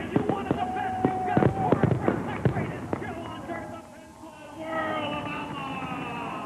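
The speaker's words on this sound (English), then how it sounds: "Really a quaint setting as the fireworks go off overhead." Fireworks bursting overhead at a dirt-track raceway, several sharp pops and crackling booms in the first half, followed by quieter rumbling and a long tonal hum, heard from a distance over crowd ambience.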